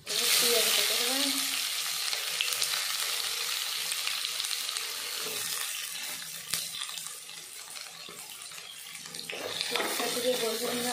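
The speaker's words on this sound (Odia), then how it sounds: "ଏମିତି ଜିରା ଫୁଟିଲା ପରେ ପିଆଜ ପକେଇଦେବା" Cumin seeds and onion fry in a hot pan with whole cinnamon and cardamom, giving a continuous close crackling sizzle that swells loudest at the start, eases in the middle and rises again near the end.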